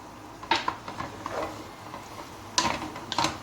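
A spoon clinks against a pot while okra stew with minced meat is stirred, giving scattered metallic taps and scrapes in small clusters over a faint bubbling background.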